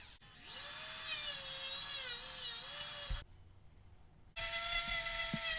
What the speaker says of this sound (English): For this I'm using a sanding attachment on the Dremel.